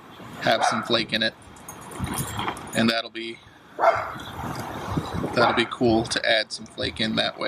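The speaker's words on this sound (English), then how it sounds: "You gotta excuse my dogs." Pet dogs bark in a yard in several short bursts of varying loudness, mixed in with someone talking at close range.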